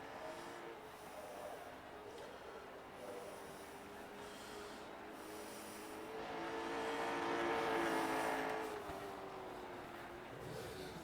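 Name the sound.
late model race car doing practice laps at Hickory Speedway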